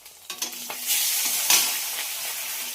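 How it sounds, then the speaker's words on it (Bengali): Fish fries in a pan in a home kitchen: a few light clatters, then a loud, steady hissing sizzle with a sharp spatter burst, heard close with no talking. "এদিকে মাছ ভাজা চাপিয়েছি,"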